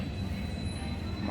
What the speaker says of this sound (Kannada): ಮಕ್ಕಳ ಟ್ರೈನ್.